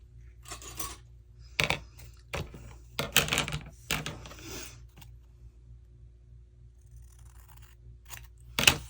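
Scissors cut a fabric-and-paper craft pocket with a lid, making a series of crisp, irregular snips close to the microphone, separated by quiet pauses.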